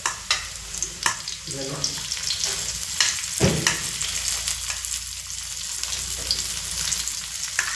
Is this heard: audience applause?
no